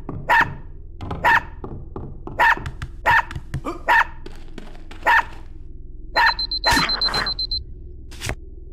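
Dog barking in the video game Unepic: a series of sharp, loud barks at a fairly regular pace, with a game tone and further yelps near the end.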